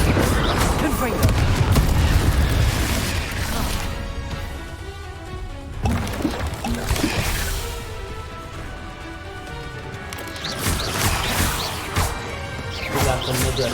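Repeated blasts from the Confringo spell in Hogwarts Legacy crack and boom in several bursts, with crashing impacts and game effects over roughly a dozen seconds.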